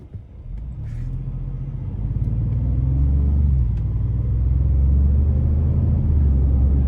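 A 2025 Ford Expedition Max Platinum SUV engine gives a deep, steady, aggressive rumble that builds and holds, heard from behind the wheel with a low, throaty drone.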